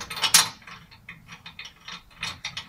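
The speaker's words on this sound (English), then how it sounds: "So I use this 3/4 ratchet just to tighten it up." A 3/4 ratchet clicks in quick bursts while tightening an Overdrive rack onto its mount on a Lectric XP e-bike, sharp close metallic ratcheting in short uneven runs.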